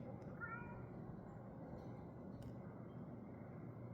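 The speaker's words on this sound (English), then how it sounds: "Cat's been meowing." A cat meowing outdoors beyond a window, a brief faint distant cry near the start over a steady low hum of room and traffic noise.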